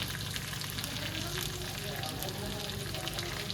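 Chicken legs fry in a pan with a steady, close sizzle and crackle that holds throughout, with no talk over it.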